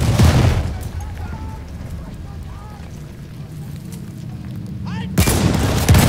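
Battlefield 1 gunfire booms in short, loud bursts at the start and again near the end, with a quieter stretch of distant battle noise in between.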